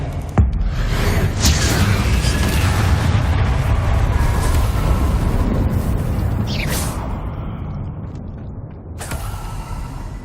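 Confringo blasting-spell explosions in the Hogwarts Legacy video game, a dense continuous rumble with sharp crackling bursts near the start and again toward the end, loud and close.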